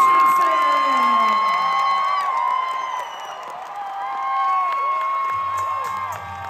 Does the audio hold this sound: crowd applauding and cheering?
yes